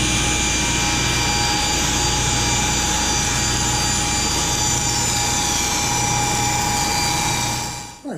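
A table saw rips a thin decorative strip from black walnut: a loud, steady motor whine with a continuous blade-cutting roar that holds for the whole cut and then drops away as the saw spins down at the end. No talking.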